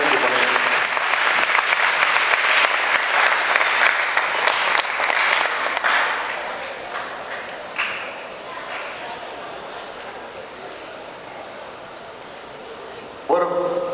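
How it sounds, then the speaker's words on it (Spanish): Conference audience applauding steadily and loudly for several seconds as a colonel is welcomed as speaker, the clapping thinning and fading toward the end before a brief final burst. "Vamos a recibirlo con un fuerte aplauso."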